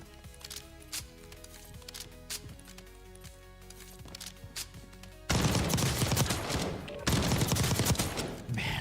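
AMX rifle fire in Warzone: a first stretch of separate metallic shots and clanks gives way to loud, dense bursts of rapid gunfire in two long volleys.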